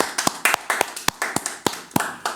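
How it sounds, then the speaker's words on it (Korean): Sharp, distinct hand claps land in a quick, uneven rhythm, close and fairly loud, like a small group clapping together at a church worship service. "하나님께 박수로 영광 돌리도록 하겠습니다"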